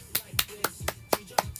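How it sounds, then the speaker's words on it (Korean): A few hands clap for a birthday during an online live stream, seven sharp, evenly spaced claps about a quarter second apart, close and fairly quiet. "박수"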